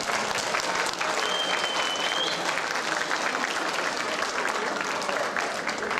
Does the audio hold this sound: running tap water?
no